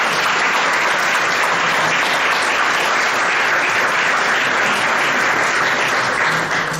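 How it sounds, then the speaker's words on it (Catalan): An audience at a talk applauds steadily, a dense, loud wash of many hands clapping that holds evenly throughout without pause. "Un aplaudiment per elles."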